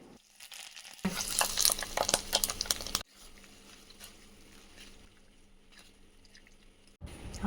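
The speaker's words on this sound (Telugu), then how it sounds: "ఫస్ట్ ఆయిల్ తర్వాత పోపు దినుసులు తర్వాత ఎండుమిర్చి వెల్లుల్లి అండ్ కరివేపాకు వేసేసి తాలింపు వేసేసుకుంటే సూపర్ ఉంటుంది" Spices, dried red chilies, garlic and curry leaves hit hot oil for a tempering, giving a loud burst of crackling sizzle for about two seconds before settling into a quieter, steady frying hiss.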